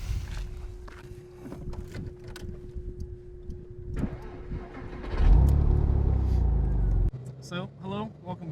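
A 2000 Porsche Boxster S starts up and drives: quiet handling and a door-like thud first, then the engine catches with a loud burst that settles into a steady run before cutting off, with people talking.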